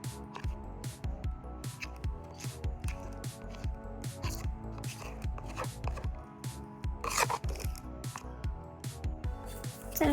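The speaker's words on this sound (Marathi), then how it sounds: "मेहंदी स्टॉकिंग मध्ये टाकून झालेली आहे." Henna paste being pushed and squeezed into a stocking stretched over a glass, giving soft, steady rubbing and rasping scrapes in quick repeated strokes, close by and quiet.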